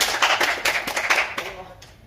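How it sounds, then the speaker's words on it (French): A young church group applauding at a youth meeting, a short burst of brisk clapping from a small crowd that fades toward the end, with voices talking over it. "Allez, on applaudit."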